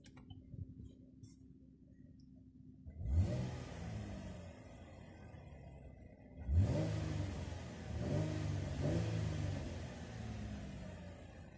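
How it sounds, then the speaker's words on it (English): A 2013 Chevrolet Camaro RS engine idles, then roars through two sharp revs, the second followed by a few quick throttle blips, loud and close with no talking. "do a few revs, and see how it sounds."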